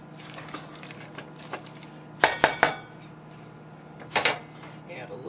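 Lobster and veggie mac and cheese gets stirred in a pot with a utensil, giving a quiet scraping rhythm punctuated by several sharp metallic clinks against the pot's side, as a person talks.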